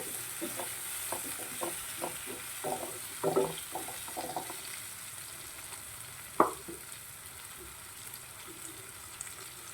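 Chopped tomatoes frying in a masala pan for squid masala, with a run of stirring scrapes and soft sizzling in the first half, then one sharper clatter and a quieter steady sizzle.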